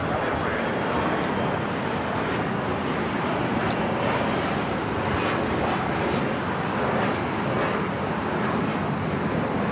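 A jet airliner takes off from runway 25 right at LAX, a steady, broad engine roar that holds constant throughout with no talk over it.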